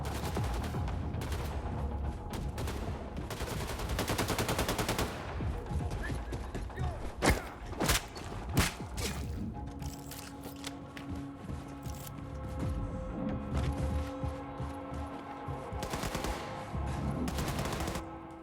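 Sustained automatic gunfire and bursts of shots from the video game Wolfenstein II: The New Colossus, loud and dense through most of the stretch, with sharp louder cracks and thuds in the middle and the firing continuing to the end.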